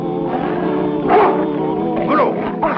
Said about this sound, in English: That's a real fine bear dog you got there, Huntsman.